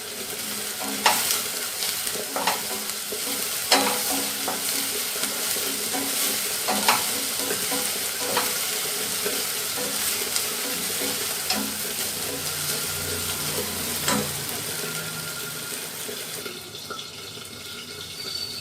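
Onions sizzle in oil in a pan as they sauté, with a steady frying hiss broken by periodic scraping stirs, heard close up and without speech.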